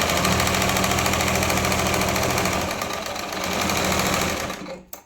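A sewing machine stitches a blouse in a loud, steady run of rapid mechanical chatter that slows and stops near the end, with no voices.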